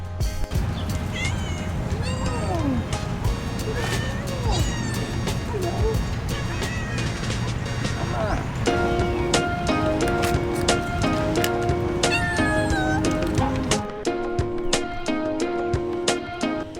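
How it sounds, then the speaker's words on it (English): Kittens and their mother cat meowing on a street in Bangkok, with several high, wavering meows scattered throughout over steady background noise and a tonal hum that later shifts. "So I was looking after these kittens."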